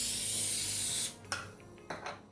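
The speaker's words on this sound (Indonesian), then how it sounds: "saya akan semprot dulu dengan minyak ya" Cooking oil sprayed into a heatproof Pyrex bowl before steaming: one long steady hiss, then two short separate spritzes, close and clear with no talking.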